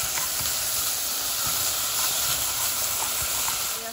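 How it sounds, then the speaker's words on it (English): Steady, soft hiss of steam rising from a pot of kale, continuous and even with no talking. "I have some kale inside of my pot. I was supposed to do a little steam."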